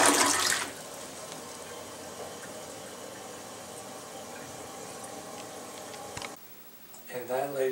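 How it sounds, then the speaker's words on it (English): A toilet flushes close by with a loud initial rush, then water keeps running and refilling steadily before it quiets and a voice begins speaking at the end. "And don't forget to flush."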